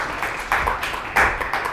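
An audience applauds a Sejong University comics and animation professor at an open lecture: a steady wash of many hands clapping close by, swelling in two louder bursts near the middle and end.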